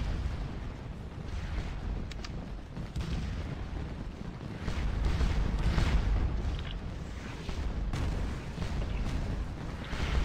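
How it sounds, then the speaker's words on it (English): Cannon fire in the Scourge of War Waterloo video game, with repeated low booming blasts rolling over a dense rumbling battlefield din, heavier toward the middle and again near the end. "we've lost six men already from cannon fire"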